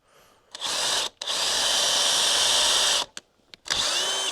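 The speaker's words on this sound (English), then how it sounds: "Always an unsettling feeling drilling towards your hand." Power drill boring pocket holes through a pocket hole jig while framing the interior of a shipping container tiny home; close, loud whirring in three bursts separated by brief pauses.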